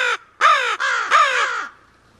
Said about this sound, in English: I hear a raven. There's a raven behind me.